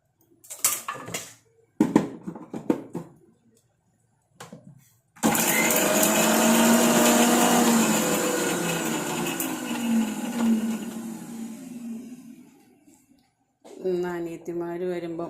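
A kitchen mixer grinder spins ginger for a kera fish curry, a loud, close, steady whir lasting several seconds before winding down, with people talking before and after it.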